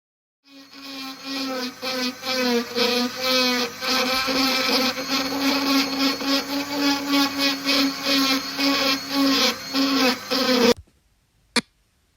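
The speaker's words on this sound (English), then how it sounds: "So this little tool is like a Dremel with a carving bit." A small handheld rotary tool with a carving bit, like a Dremel, whines steadily at high speed against kauri wood for about ten seconds, with its pitch pulsing slightly under load, then stops, followed by one short click.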